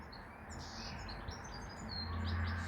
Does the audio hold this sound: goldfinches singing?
yes